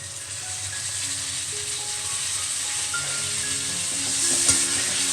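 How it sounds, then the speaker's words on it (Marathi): Onion and tomato gravy sautéing in oil in a pan for chicken sukka, a steady close sizzle with scraping stirring and a few faint metallic clinks, without talk. "आता ही ग्रेव्ही चांगली तेल सुटेपर्यंत आपण परतून घ्यायचं आहे"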